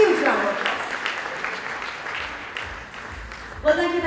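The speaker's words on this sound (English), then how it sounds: "you truly deserve that huge round of applause" Audience applause at an awards ceremony in a hall, a steady wash of clapping across the whole stretch, moderately loud, with a voice cutting in near the end.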